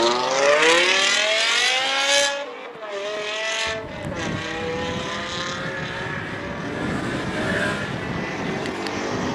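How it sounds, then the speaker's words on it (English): Mustang Mark 1 race car, number 28, attacking the final sector of a Cape Town hillclimb: a loud, close engine revs hard, dips between gear changes and climbs again, droning steadily as it passes. "Gino Nurse now taking on the hill almost towards the end, the final sector approaching, driving the Mustang Mark 1, number 28."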